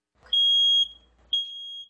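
A smoke detector alarm emits two loud, piercing electronic beeps, the first long and the second shorter after a brief gap, alone with no talk.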